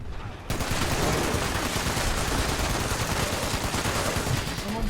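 A Gatling gun in Fallout 76 fires one loud, continuous stream of rapid rounds that starts abruptly and runs unbroken to the end, close and dominant, with faint talk beneath.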